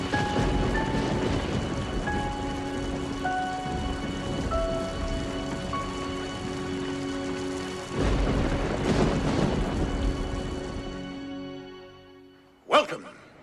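Steady rain and rumbling thunder from a terrible storm in a TV movie, a dense wash of downpour with tonal music layered over it, a surge midway, then fading out before a brief sharp hit at the end.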